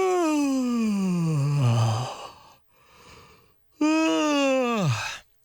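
A person yawns audibly twice, each a long, drawn-out vocal exhale sliding downward in pitch, with a quiet breath between them, close to the microphone.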